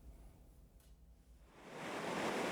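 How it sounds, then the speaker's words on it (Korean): Muddy floodwater in a swollen mountain stream during a typhoon, pouring down like a waterfall: a broad rushing roar that swells from a low rumble to a loud, hissing torrent, with no voices. "흙탕물이 폭포처럼 쏟아져 내리고 불어난 계곡물에 도로를 잇는 다리가 완전히 잠겼습니다"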